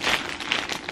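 A plastic package of Dr. Brown's baby wipes being pulled open, with close, brief crinkling and rustling bursts.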